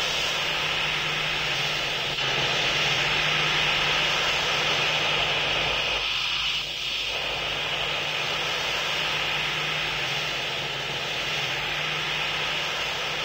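Airplane taxiing in a pilot training flight simulator game, a steady loud jet-engine whine and hum running throughout without a break, with no talking over it.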